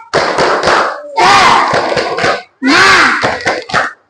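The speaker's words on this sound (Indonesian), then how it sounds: "coba tepuk semangat" Schoolchildren in an Indonesian classroom perform the 'tepuk semangat' clapping chant, loud group shouts and voices interleaved with rhythmic claps and thumps in two bursts separated by a short pause.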